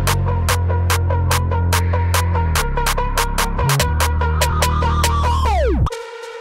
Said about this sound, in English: I'm bringing in the claps